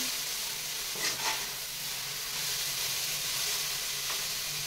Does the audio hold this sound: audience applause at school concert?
no